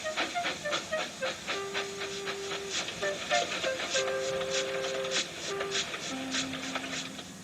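A steam locomotive hisses and puffs while other calls and whistles sound around it, a busy layered mix of rhythmic chuffing with sustained tones over a steady rushing hiss.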